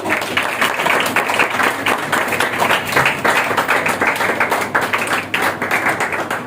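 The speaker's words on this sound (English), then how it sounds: "Keep clapping." A crowd claps continuously at a Teachers Day celebration at SS English Academy, dense, loud, even applause with sharp overlapping claps filling the whole stretch and no talking.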